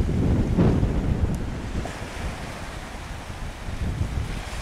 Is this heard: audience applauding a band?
no